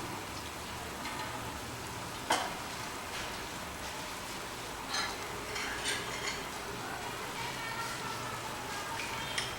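Masala sizzling in a pan while cooking mutton haleem, a steady, close crackling hiss like light rain, broken by a few sharp clinks and taps.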